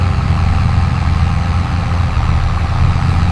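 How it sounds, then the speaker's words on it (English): An animated tractor engine hums with a steady, low, even drone that stays constant and close throughout, with no talking. "The engine hummed with gentle roar, and rolled across the grassy floor."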